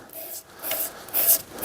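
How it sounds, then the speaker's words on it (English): Short strokes of 400 grit sandpaper rub across a wooden workpiece for a bluegrass instrument part, a soft rasping scratch in uneven bursts, close and quiet, with the stronger passes near the end. "Finishing up with some 400 grit"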